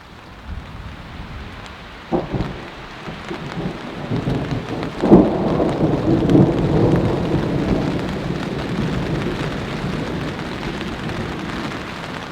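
Thunderstorm with rain in a forest during severe-weather camping: steady rain hiss throughout, with a sharp thunder crack near 2 seconds and a heavier, rolling thunderclap around 5 seconds that rumbles on under the downpour.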